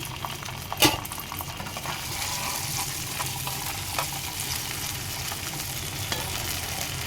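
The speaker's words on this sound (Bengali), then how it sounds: "এখন আমি চিংড়ি মাছ ভেজে নেব" Prawns frying in hot oil in a frying pan, a steady close sizzle with a sharp crackling burst near the start and light stirring scrapes throughout, no voices.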